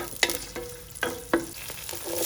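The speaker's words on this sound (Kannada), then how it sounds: "ಒಂದು ಮೂರಿಂದ ನಾಲ್ಕು ಸ್ಪೂನಷ್ಟು ಎಣ್ಣೆ ಸಣ್ಣ ಕಟ್ ಮಾಡಿರೋಂಥ ಈರುಳ್ಳಿ ಈರುಳ್ಳಿ ಸ್ವಲ್ಪ ಫ್ರೈ ಮಾಡ್ಕೊಳ್ಬೇಕು" Finely chopped onions frying in three to four spoons of oil, a soft sizzle broken by several sharp clinks and scrapes of a spoon stirring the pan, close up and with no voices.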